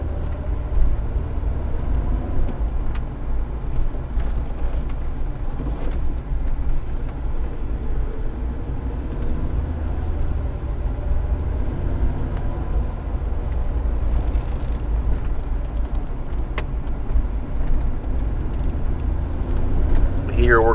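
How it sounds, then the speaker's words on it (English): A 1995 Ford Explorer Expedition 4X4 drives slowly around a parking lot, its engine and road rumble a steady low drone from inside the cabin, with someone talking over it throughout. "we're just gonna take it on a brief drive around the parking lot just to give you a feel for how the vehicle drives"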